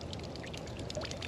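Water being poured off a carp bait mix, a steady splashing trickle with a broad, hissy wash, close and moderately quiet, lasting about a second with no voices.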